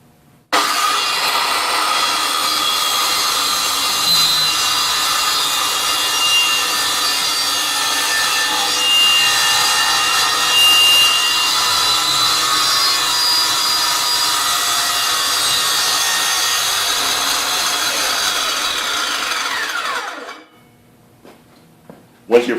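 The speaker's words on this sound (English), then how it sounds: "So I'm going to cut right through right now." Blade of a DIY folding table saw plunging through wood, a loud sustained rasping cut lasting about twenty seconds, then cutting off with brief handling noises at the end.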